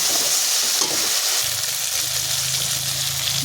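Chicken dropped into fried spice paste in a pan for coriander chicken sets off a loud, dense sizzle with stirring scrapes, continuous and close, no talking.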